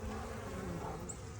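Dense, steady buzz of many honeybees flying around an active hive colony in the evening, a continuous close drone with no voices.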